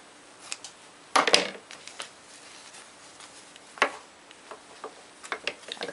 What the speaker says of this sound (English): I'm going to cut a small piece for the thumb